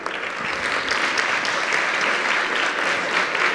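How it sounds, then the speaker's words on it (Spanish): Sustained applause from an audience at a university student awards ceremony, steady and dense crowd clapping filling the whole stretch without a break. "Démosle un aplauso, por favor"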